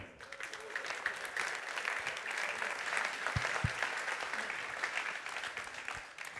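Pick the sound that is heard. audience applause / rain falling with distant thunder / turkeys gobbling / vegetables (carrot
audience applause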